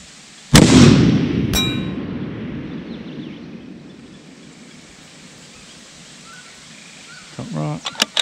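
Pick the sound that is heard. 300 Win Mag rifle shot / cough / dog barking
300 Win Mag rifle shot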